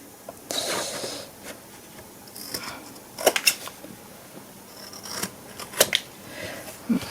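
Scissors cutting through paper during a wedding album cover craft project, several short crisp snips and slides in separate bursts over a quiet background, close to the microphone.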